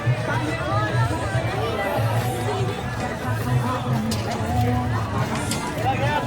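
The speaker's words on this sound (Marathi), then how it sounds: "मागे पण तशीच गर्दी आहे फुल फुल पान गर्दी आहे" Dense crowd babble from a packed temple fair, a big jatra held for Mahashivratri, with many overlapping voices at steady loudness and a low droning hum running beneath the chatter throughout.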